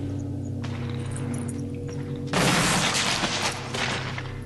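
Gunfire against zombies in the Resident Evil Remake video game on GameCube: a few quiet clicks, then one loud booming shot with a short decaying tail, followed by quieter shuffling.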